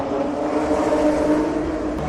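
IndyCar race cars idle and rev nearby at the Long Beach Grand Prix, a steady droning engine tone with a slight rise, close and loud, with no talk.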